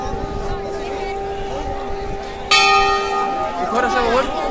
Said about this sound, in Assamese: এইফালে অলপ মই বজাই দিওঁ ঘণ্টাটো